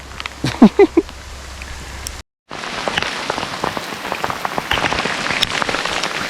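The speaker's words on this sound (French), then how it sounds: "un gros nuage est arrivé, il y a de la grêle" Hailstones patter densely and continuously on a surface nearby in Norway in August, a steady rattling downpour after a brief burst of animal-like cries and a short silence.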